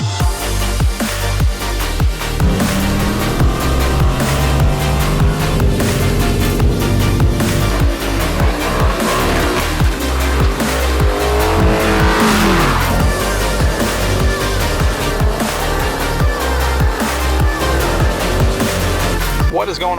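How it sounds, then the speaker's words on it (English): Dodge Challenger SRT 392 and Kia Stinger GT racing, a loud continuous engine roar with rising revs and tire squeal throughout, layered with music-like tones. "We're putting my SRT 392 up against a Kia Stinger GT."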